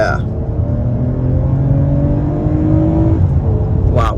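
A 2022 Toyota Avalon XLE's dual overhead cam engine revs hard under highway acceleration, a steady rising drone heard from inside the cabin, continuous for several seconds with a brief voice near the end.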